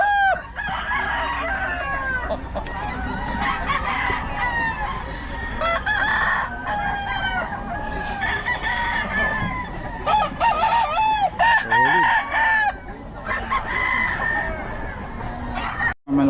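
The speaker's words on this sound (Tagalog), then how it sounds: "Manok ni boss" Several roosters crow repeatedly at a rooster farm in Bocaue, their calls overlapping loudly and continuously amid a busy, noisy crowd.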